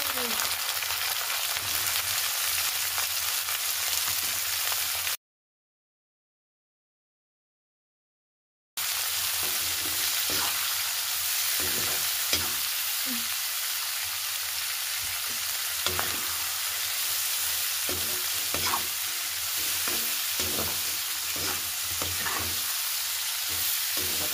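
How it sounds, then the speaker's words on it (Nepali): Cabbage sizzles and spits steadily in a hot pan while being stir-fried for vegetable chow mein, a continuous close frying hiss with scattered crackles and stirring clatter, and no talk. "अब गोभी फ्राई गर्ने।"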